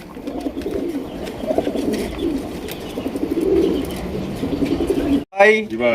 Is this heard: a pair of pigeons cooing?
yes